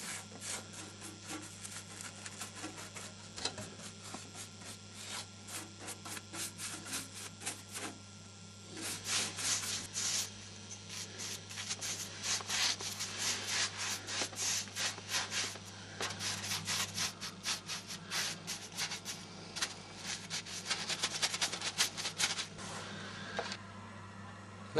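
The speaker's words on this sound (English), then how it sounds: "we're going to rub them down with a bit of this stuff, which is emery cloth" Emery cloth rubbing down anti-rust painted wings of a Jaguar car, heard as a dense series of quick scratchy abrasive strokes, sparse at first and then steady and rhythmic, close and moderately loud over a low steady hum.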